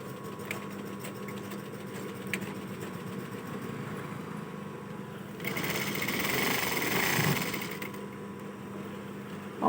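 A sewing machine stitches fabric with a fast, steady mechanical whirr and needle chatter, running fairly quietly at close range and swelling louder for a couple of seconds midway before settling back.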